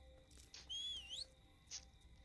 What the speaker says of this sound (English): He can whistle to draw him in